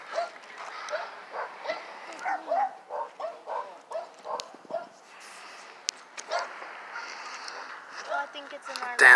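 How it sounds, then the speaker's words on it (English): A dog barks near a burning house, letting out a long rapid run of repeated barks, then a pause, then more barking, with people talking outdoors nearby. "dog."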